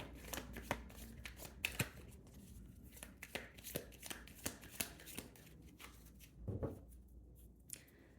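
A tarot deck is shuffled by hand close up: soft, steady riffling and sliding of cards with sharper slaps and flicks scattered through. The sound is quiet and carries no speech.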